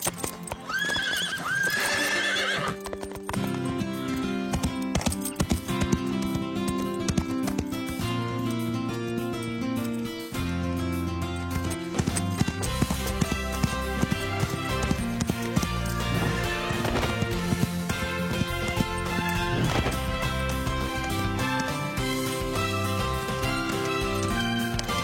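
Cartoon horses whinny early on, then hooves clip-clop at a trot under continuous loud music for the rest of the scene, during preparations for a horse show.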